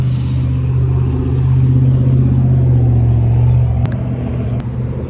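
A used car's engine idles with a steady low rumble through its aftermarket exhaust at a used car dealership, swelling slightly in the middle before settling, with a couple of sharp clicks near the end.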